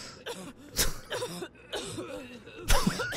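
Several sharp coughs burst out between stretches of people talking, with one loud cough near the start and another near the end.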